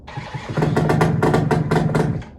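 A boat engine cranks on a weak battery or poor connection in a quick run of labored, rhythmic bursts, the starter churning for about two seconds without the motor catching.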